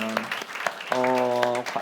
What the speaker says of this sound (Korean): 우리 예배받기 합당하신 주님께 영광의 박수 올려드리기 원합니다